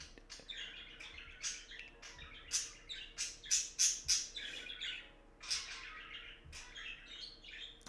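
Pet birds kept indoors squawk and chirp in a lively, overlapping burst of calls, fairly close and moderately loud, with several sharper peaks through the middle and no voices.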